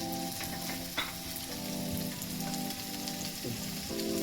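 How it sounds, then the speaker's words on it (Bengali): Onions frying in a pan while cooking chicken kosha, a steady crackling sizzle with a few soft clinks of a utensil, close and continuous, with no talk. "পেঁয়াজ ভাজছে"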